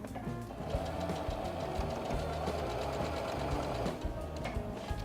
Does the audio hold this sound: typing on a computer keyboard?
no